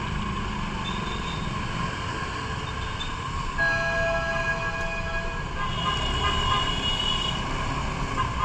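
An LRT train passes near Buendia station, a loud continuous rumble of rail and street traffic with tonal squeals and hums rising midway, recorded from a moving motorbike.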